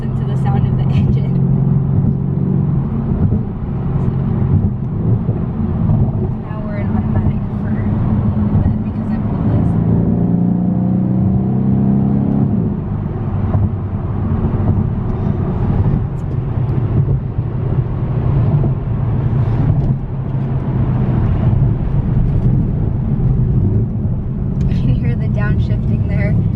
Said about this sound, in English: you definitely notice when you listen to the sound of the engine